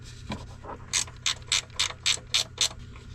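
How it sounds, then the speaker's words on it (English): A ratchet wrench turning a 10 mm nut off a Jeep fender light mount outdoors, a run of seven or eight crisp clicks in steady rhythm, close and clear. "took the nut off, 10 millimeter"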